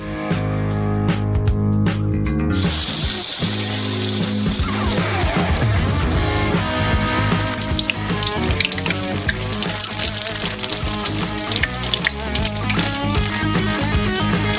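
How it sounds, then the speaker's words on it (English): Steady, loud crackling and sizzling of a corn dog deep frying in hot oil, continuous throughout with bubbling texture and no talking. "And then you just gotta fry it."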